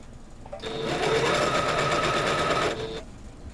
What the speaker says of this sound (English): I'm just going to finish sewing this.